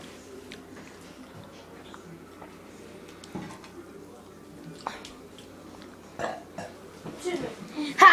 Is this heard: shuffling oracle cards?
no